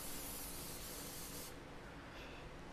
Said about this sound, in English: add a little cooking spray so that the tenderloin doesn't stick to the grates